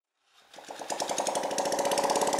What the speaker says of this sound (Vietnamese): tạm thời ghim vào cho nổ máy xem